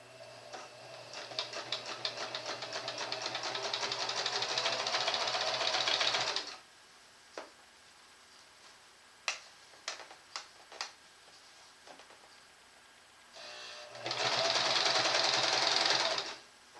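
A sewing machine stitches along a T-shirt in two runs of rapid, even mechanical clatter, separated by a quiet pause with a few scattered clicks and taps.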